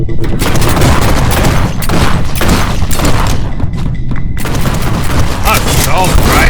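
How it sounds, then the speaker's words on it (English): Assault rifle fire in the PC shooter G2 Fighter, dense rapid bursts and booming shots running almost continuously, loud and close, layered with game sound effects. "Assault rifle. Amazing shit. Assault rifle."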